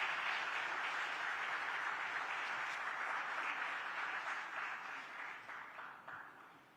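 Sustained applause from a large audience at a women's leadership awards ceremony fills the space, steady at first and then slowly tapering off toward the end.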